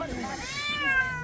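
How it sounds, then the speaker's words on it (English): A feral cat on the Great Wall of China gives a drawn-out, rising and falling meow at close range, with faint background murmur beneath it. "there's a lot of feral cats on the wall here"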